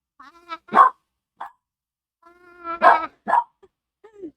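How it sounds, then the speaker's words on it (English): A dog named Hazel barks at the neighbors indoors in a few separate bursts of sharp, close barks with whiny yips between them. "Hazel's barking at the neighbors"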